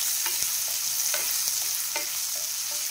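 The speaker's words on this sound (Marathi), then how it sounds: "तर आपण त्याच्यात आपला कांदा जो चॉपला तो टाकायचा फोडणीला" Chopped onion sizzles steadily in hot oil for a tempering while a spoon stirs and scrapes the pan in several short strokes, close and clear with no voices.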